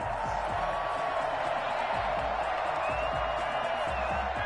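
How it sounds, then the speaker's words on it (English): Football stadium crowd at a Colts game against the Dolphins, a dense continuous roar of cheering that stays loud and steady throughout, with scattered shouts and whoops rising from the mass of voices. "And this crowd into it early."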